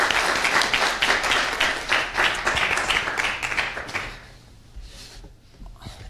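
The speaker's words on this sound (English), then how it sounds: "If we give him a round of applause as well." Audience applause in a small arena, many people clapping loudly and rhythmically for about four seconds before it dies away to a few scattered claps and quiet room noise.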